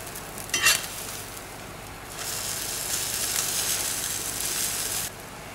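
Cream-cheese-stuffed keto French toast frying in butter in a pan, a brief clatter of handling followed by a steady close sizzle that swells after a flip and holds for a few seconds.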